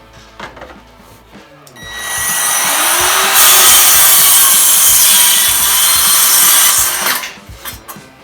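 A hand saw rasps steadily through wood for several seconds, making a straight 90-degree cut against a guide rail, loud and close, with a few light knocks before and after.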